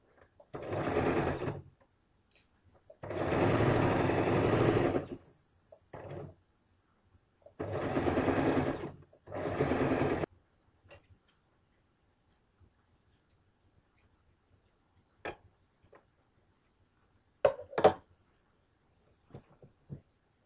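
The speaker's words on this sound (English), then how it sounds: "use a 1 centimeter seam allowance and sew both of these seams" A sewing machine stitches kameez seams with a 1 centimeter seam allowance, running in several short bursts of steady whirring, then falling quiet apart from scattered small clicks and handling noises.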